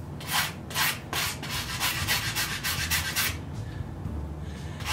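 Steel file rasping across a small metal T-nut, a run of close, rhythmic push strokes with a dry scraping texture, then a few softer, irregular rubs toward the end; no talking.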